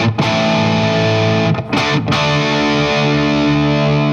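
A distorted power chord on a 2003 Gibson Les Paul '59 Reissue with a Brazilian rosewood fretboard rings out thick and sustained, briefly choked and restruck a couple of times, loud and up close.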